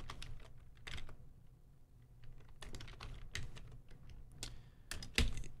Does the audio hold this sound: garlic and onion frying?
no